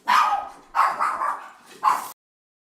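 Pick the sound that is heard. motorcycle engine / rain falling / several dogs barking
several dogs barking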